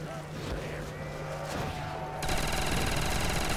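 Rapid gunfire from the Barracuda weapon in World at War custom zombies, a dense fusillade of shots that starts abruptly partway through and continues loud and sustained over game ambience.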